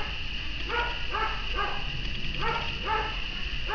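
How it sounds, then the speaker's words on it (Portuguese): A dog barks repeatedly in quick pairs and short bursts, somewhat distant, under a steady background hiss. "Ai, meu cachorro tá latindo."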